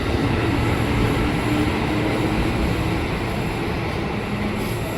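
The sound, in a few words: KRL commuter train at Juanda station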